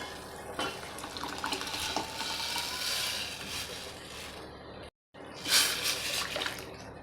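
Jaggery-tamarind water is poured into a pot of dal, giving a sustained splashing pour with clinks of utensils, a brief dropout midway and a final burst of liquid.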